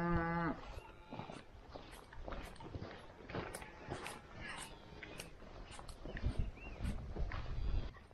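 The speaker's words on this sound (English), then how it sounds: "There's cows over there." Cattle moo in the open Patagonian countryside in Chile, one long low moo at the start, then shuffling steps and scattered knocks with other faint animal sounds at a moderate distance.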